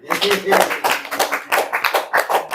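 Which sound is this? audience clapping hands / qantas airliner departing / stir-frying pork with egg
audience clapping hands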